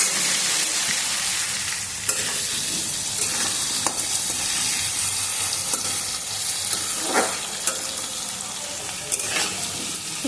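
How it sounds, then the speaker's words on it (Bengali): Potatoes fry with salt and turmeric for a soybean curry, a steady loud sizzle running throughout with occasional sharper crackles and stir scrapes. "একটু লবণ আর হলুদ দিয়ে আলুগুলো লাল করে ভেজে নেব।"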